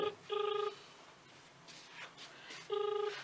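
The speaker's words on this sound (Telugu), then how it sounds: "అందశ్రీ సార్ ఫోన్ చేస్తున్నాడు," A telephone rings for an incoming call during a live news broadcast, two short buzzy electronic ring bursts separated by a pause, with faint background sounds between them.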